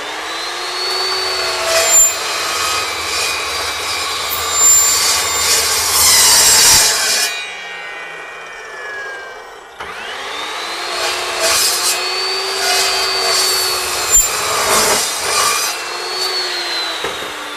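An Evolution S355 14-inch steel miter saw makes a 45-degree miter cut. The motor whines up, the blade grinds through the stock, and the motor winds down, then a second whining cut follows after a brief quiet gap.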